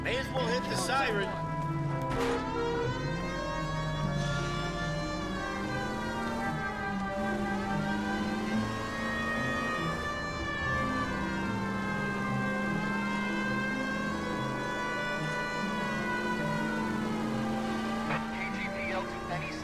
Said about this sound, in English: May as well hit the siren.